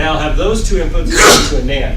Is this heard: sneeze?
yes